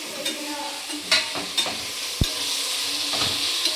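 Chopped tomato stirred and fried in a hot pan, a steady sizzle broken by several scraping stirs and one sharp knock of the spoon, close and alone with no talk.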